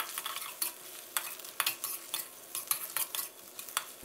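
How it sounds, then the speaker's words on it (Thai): Minced garlic stir-fried with cooked egg in a pan for cabbage and egg stir-fry: rapid, irregular spatula scrapes and clacks over a steady light sizzle, close and fairly quiet, with no voices. "ใส่ลงไปเลยครับแล้วก็ผัดคลุกเคล้าให้เข้ากันนะครับผัดให้กระเทียมของเราแตกกลิ่นหอมเลยครับ"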